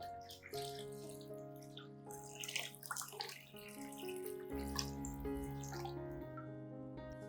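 Water runs and splashes into a container, a continuous trickling pour of 1.5 liters, with shifting gurgles and ringing tones.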